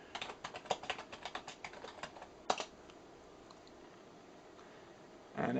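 A computer keyboard clatters as commands are typed on a Raspberry Pi setup, a quick run of close, crisp keystrokes over about three seconds, then quiet.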